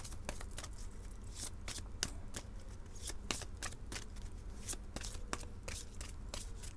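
Cards from a French oracle deck being shuffled and handled, giving a steady stream of soft papery riffles and flicks close by with no one speaking.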